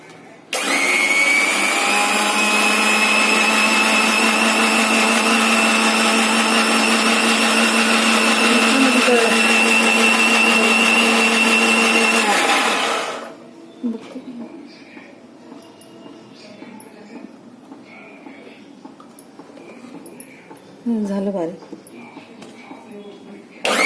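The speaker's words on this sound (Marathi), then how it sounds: "आता मी मिक्सरमध्ये" A mixer grinder roars loudly and steadily for about thirteen seconds while preparing fasting thalipeeth, then winds down and stops, leaving a quiet room with a few faint clinks.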